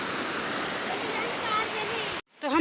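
A small mountain stream carrying little water in a Himalayan valley, heard as a steady, close, broadband rush of flowing water that cuts off abruptly near the end.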